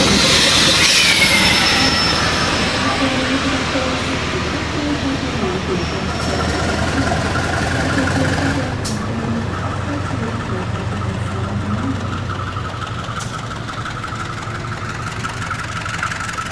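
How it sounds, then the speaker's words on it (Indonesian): Serayu train diesel locomotive idling at Kroya station, a steady low rumble with a brief louder surge at the start, mixed with platform noise and people talking. "ini dia lokomotif kereta api Serayu"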